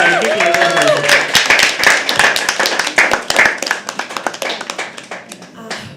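Audience clapping at a live poetry open mic at The Habitat, loud and close with sharp individual claps that grow sparser and thin out toward the end, with a voice speaking over the start.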